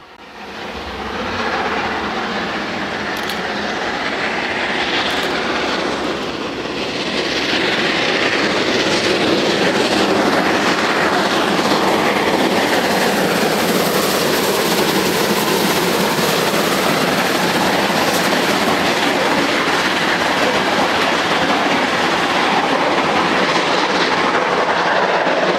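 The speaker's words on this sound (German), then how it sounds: "Der Eilzug verlässt jetzt den Bahnhof Landau in der Pfalz in Richtung Karlsruhe." A steam locomotive class 01 express train rolls out of Landau in der Pfalz station with a broad, rising roar of wheels and machinery, growing louder and steady as it gathers speed nearby.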